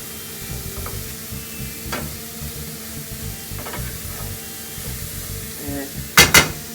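Onions fry in a pan for a curry, a low steady sizzle with scattered soft clinks and scrapes of stirring, and two sharper metallic knocks near the end.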